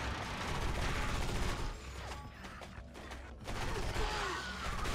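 Rapid gunfire bursts crackle through a combat zone in the 2005 shooter Area 51, clustered volleys of sharp shots with mechanical clatter between them, loud and close with a brief lull midway.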